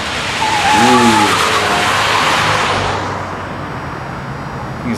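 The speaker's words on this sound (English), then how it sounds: "Blistering speed in the Kia." A Kia car driving fast, with tires squealing and skidding in a short rising-and-falling wail over the engine and road roar, loud and close, then easing off into a quieter rumble.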